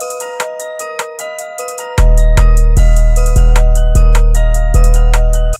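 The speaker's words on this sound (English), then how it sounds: "I took the 808, I cut out a part and made it hit 2 times before hitting." FL Studio hip-hop beat: a loud, booming 808 bass that stutters before landing, crisp hi-hats and claps over a bright synth melody. A sparse intro leads into the full, punchy pattern, which ends abruptly.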